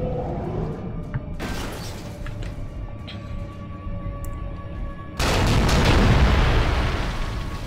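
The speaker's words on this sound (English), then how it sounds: "We have an explosion." An explosion in a video game mission erupts suddenly as a loud, broad rumbling burst that swells and lingers over a steady ambient hum.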